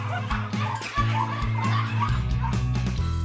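Pomeranian puppies at a kennel yip and bark in short, high bursts over a steady background hum, with a few faint voices or laughs mixed in.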